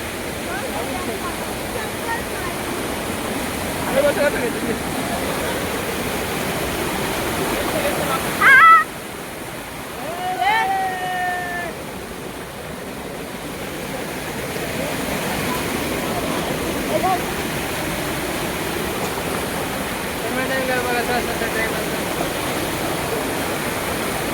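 Water rushing steadily at Madkhol dam, a continuous broad roar close by, with voices talking briefly over it partway through.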